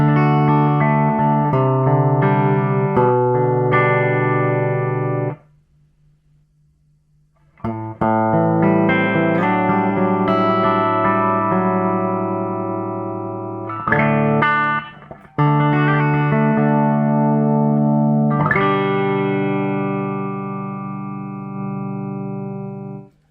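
Guitar played through a Burman Pro 501 hand-wired 1x12 boutique combo amp with reverb: loud sustained chords and ringing notes with a reverb tail, a brief near-silent pause around five seconds, then more strummed playing, with no talking.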